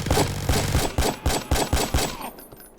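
Rapid bursts of gunfire from the Roblox game AniPhobia, about eight sharp close shots in an even rhythm, loud and alone, ending in a brief quiet tail.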